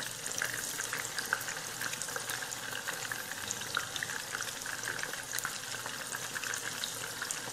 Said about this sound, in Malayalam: സാധാരണ ഫിഷൊക്കെ ഫ്രൈ ചെയ്യുന്ന പോലെ തന്നെ നമുക്ക് ഈ ഓരോ പീസസ് ആയിട്ട് ഇതിലേക്ക് ഇട്ടെടുക്കാം.